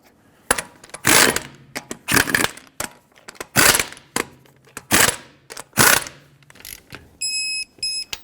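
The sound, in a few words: tightening lug nuts on Dodge Grand Caravan wheel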